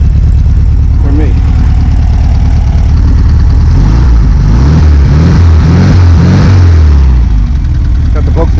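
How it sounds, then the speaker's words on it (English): A 1966 Volkswagen Beetle engine idles loud and close with a steady low chugging throb, a few blips of revving rising in the middle before it settles back to idle. "Got the Volkswagen sound."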